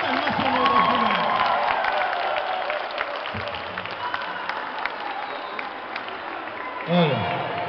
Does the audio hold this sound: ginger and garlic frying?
no